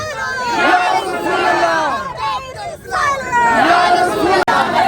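A crowd of lawyers chants slogans in unison outside the Supreme Court in Pakistan, loud, close and sustained, with rising and falling shouted phrases and brief dips between chants.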